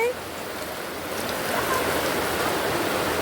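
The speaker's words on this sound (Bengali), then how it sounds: "আমার কিন্তু বৃষ্টির শব্দ অনেক ভালো লাগে।" Steady rain falls in a rural village setting, a continuous broadband hiss that swells slightly and fills the clip without any talk.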